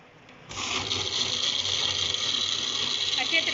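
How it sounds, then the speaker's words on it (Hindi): Electric blender kicking on to blend falsa berries with sugar, black salt and water, a sudden high whirring motor drone that starts after a brief pause and runs steadily and loudly to the end. "अब मैं अच्छे तरीके से ब्लेंड कर लूँगी इन सारी चीज़ों को।"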